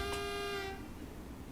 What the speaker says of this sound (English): Interesting horn on this one.